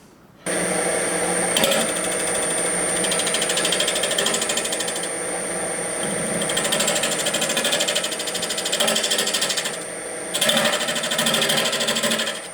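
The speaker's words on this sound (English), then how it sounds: "now it's just time to hollow this thing out" Wood lathe spinning steadily while a hollowing tool cuts into a hollow form, giving a continuous close mechanical whir with a rhythmic chattering texture and a high whine that rises and eases as the cut changes.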